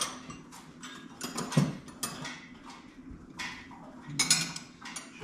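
Metal 3/4 and 5/8 inch wrenches clink and clatter as they are sorted into place, irregular close jangles and taps over a quiet background, with a few sharp metallic hits.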